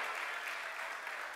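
A crowd at a political rally applauds Deputy Leader Jearlean John, a brief, faint wash of distant clapping with no clear single claps standing out.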